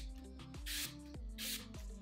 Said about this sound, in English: I'm just gonna spray my face using Smashbox's Photo Finish So Chill Coconut Primer